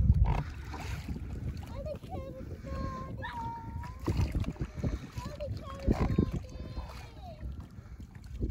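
An inflatable dinghy paddled across calm water near Newtown Creek, with splashing paddle strokes and water lapping close by while people talk and a voice cuts in over the top.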